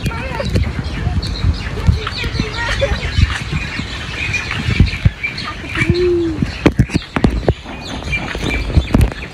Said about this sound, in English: You hear all the birds? I do hear all the birds.